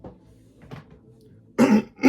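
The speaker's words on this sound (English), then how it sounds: "Sorry, can't clear my throat here." A person clears their throat and coughs, a couple of low rough bursts near the mic after a quiet stretch.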